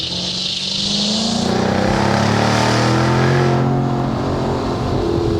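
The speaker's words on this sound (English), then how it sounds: "what that snarling supercharged V8 sounds like when it's in full flight" A supercharged V8 engine in a 2024 Jaguar F-Type 75 P450 convertible revs and snarls loudly, its deep growl rising and holding steady at high revs throughout.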